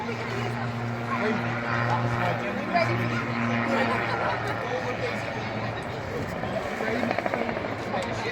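Small autogyro-style rotorcraft flying at the Blackpool Air Show, a steady rotor drone with low tonal hum, mid-distance, under crowd chatter and a talking voice.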